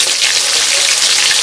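Fish dropped into smoking-hot mustard oil: a loud, continuous, close hiss and crackle of frying that fills the whole moment without letup.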